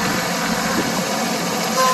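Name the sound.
Deutz Allis 5215 tractor diesel engine running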